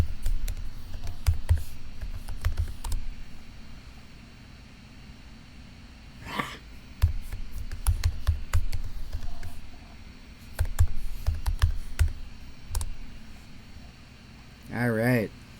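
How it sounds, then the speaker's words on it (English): A password is typed on a Mac computer keyboard: irregular bursts of crisp keystroke clicks separated by pauses, close and fairly loud over a low background hum. "Then I gotta type in the password."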